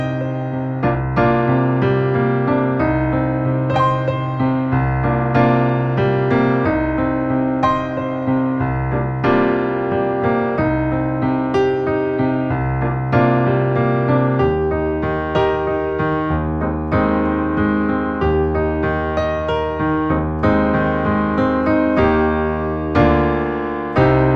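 Piano playing the verse of a song, with steady chords and a bass line in a flowing triple-time rhythm, solo and unaccompanied by voices.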